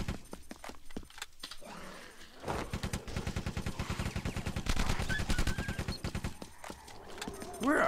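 Rapid bursts of automatic gunfire crackle in a zombie action video game, long rattling volleys with short pauses between them, loud and close, with a voice talking over parts of it.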